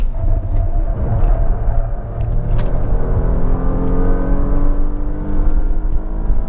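A Porsche Panamera 4 driving hard on a technical race track, its engine a loud, sustained rumble and whir that climbs steadily in pitch as it accelerates.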